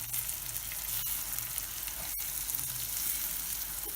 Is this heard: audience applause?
no